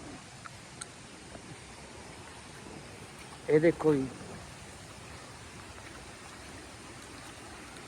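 Rainwater collected from the fields near the Ghaggar river rushes through a village culvert at Chandpura, heard as a faint, steady wash of flowing water, with someone speaking briefly partway through.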